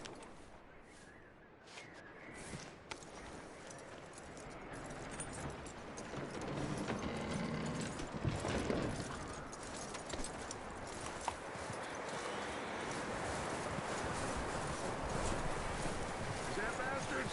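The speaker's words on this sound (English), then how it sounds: "That looks like a decent horse." Horse hooves clip-clop steadily in Red Dead Redemption 2, a rhythmic trot under wind and ambient outdoor noise, fairly faint, with game voices talking over parts of it.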